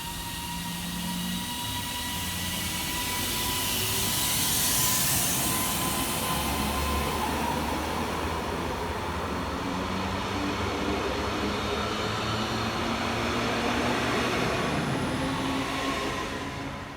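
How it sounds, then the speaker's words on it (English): A Northern class 331 electric multiple unit pulls away from a station in the rain, a steady broadband rumble and hiss of rolling stock that builds and holds for the whole stretch, with no talking. "Departing next to the station is 331-111, running 5 minutes late with a 1345 Northern service from Manchester Airport"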